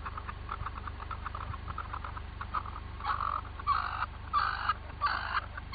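A person imitates a chicken with repeated clucking bursts that grow louder and more insistent toward the end, over a low steady background hum.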